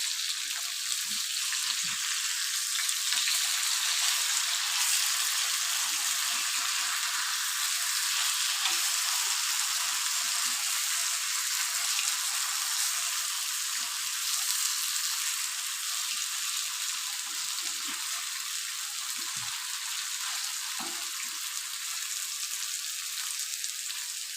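Sankara fish fries in a pan with a steady, bright sizzle of hot oil that runs on without a break, with a few faint soft knocks underneath.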